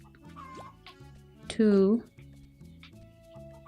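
Chickens in the Gleaner Heights video game let out a brief burst of clucking over looping chiptune-style background music, with a man counting aloud around it.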